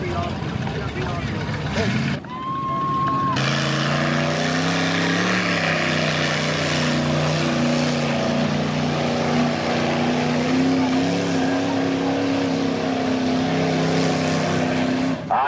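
Ford and Chevy trucks race through a mud bog, their engines roaring steadily at a distance over a continuous outdoor crowd din, with the drone holding high for most of the stretch.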